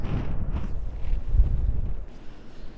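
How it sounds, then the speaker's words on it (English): Wind rumbles and buffets across the microphone on the Norfolk coast at Burnham Overy Staithe, a steady low roar with gusty swells, heard outdoors with no other clear sounds. "It's windy."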